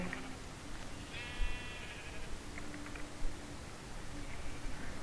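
Minecraft sheep bleating in a game world, one clear bleat standing out over steady background hiss, with fainter sounds following later.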